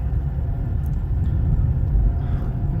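Taxi car pulling away and driving off on a Kyiv road, heard from inside as a steady low engine and road rumble throughout.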